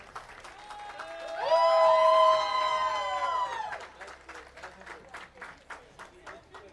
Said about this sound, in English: Huge round of applause, and you guys can also make some noise.